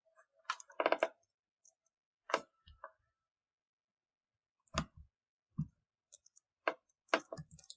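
Several short bursts of clicking keystrokes from a computer keyboard as a command is entered on a Linux system, spaced by pauses, close and fairly quiet, with no talking.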